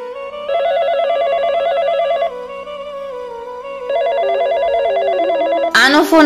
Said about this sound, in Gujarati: આનો ફોન અત્યારે ક્યાંથી આવ્યો?